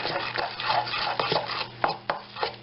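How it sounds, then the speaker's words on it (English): Cajun tartar sauce with capers stirred in a bowl, a close, busy stretch of wet scraping and swirling strokes with a few sharper utensil taps against the bowl. "We're going to mix that up."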